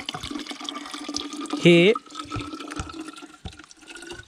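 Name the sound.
water flowing from a mountain spring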